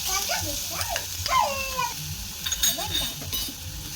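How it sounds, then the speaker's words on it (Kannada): Green chili paste sizzling in a pan with garlic while being stirred, a steady close hiss throughout, with a voice and tonal sounds over it. "ಹಸಿಮೆಣಸಿನ್ಕಾಯಿ ಪೇಸ್ಟ್ ಹಾಕ್ತಿದ್ದೀನಿ ಅದು ಹಸಿ ವಾಸನೆ ಹೋಗೋವರೆಗೂ ಮಿಕ್ಸ್ ಮಾಡ್ಕೋಬೇಕು"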